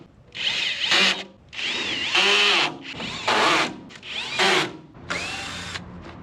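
A power drill drives self-drilling screws in repeated bursts, about five whining spins each lasting under a second, each revving up and cutting off, with short quiet gaps between them.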